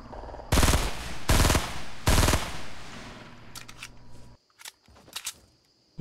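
Gunfire in a shooting video game: three loud bursts of rapid fire in quick succession, followed by softer scattered shots and clicks as the din trails off.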